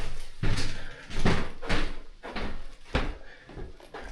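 A hotel room door in a UK seaside town swings and closes with a few solid wooden knocks and thuds spread across several seconds, fairly close and fairly loud, with no talk over it.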